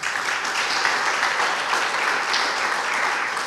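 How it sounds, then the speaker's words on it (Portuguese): A church congregation claps together in sustained, even applause that fills the room at full strength for the whole stretch, with no pause or fade. "Vamos aplaudir Jesus?"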